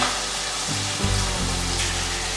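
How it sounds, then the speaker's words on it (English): Beef frying in a pot as eggs are cracked in for a breakfast meal prep, a loud steady sizzle with a couple of soft knocks and a brief burst of extra hiss, no voices. "We're going to start breaking eggs into the beef"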